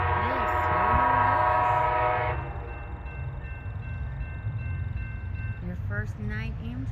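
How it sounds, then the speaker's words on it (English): Amtrak 20, led by a Charger locomotive, sounds a sustained horn up close in Austell, Georgia, then rumbles past with steady wheel and engine roar; a voice speaks briefly near the end. "Amtrak 20, with Charger in the lead."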